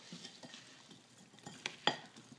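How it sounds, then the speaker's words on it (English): Rice and vegetables coated in oil being stirred in a bowl for microwave risotto: soft, quiet scraping, then two sharp utensil clinks against the dish near the end. "And I'm going to stir it really well."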